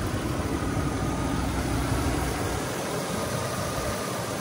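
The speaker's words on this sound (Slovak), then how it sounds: "Motor si ševeli naozaj krásne" A 2001 Chevrolet Suburban 2500 LT 4x4 with an 8.1-litre V8 idles steadily, a smooth, continuous rumble heard close up, broad and unchanging throughout, with no voices.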